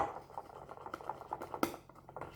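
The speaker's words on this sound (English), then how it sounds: "now I'm going to stir in all the shaving cream" Wet, sticky squelching and soft tapping come from shaving cream being stirred into a light blue fluffy slime mixture in a bowl. The irregular, close-up patter builds to a sharper squish partway through, with no voices.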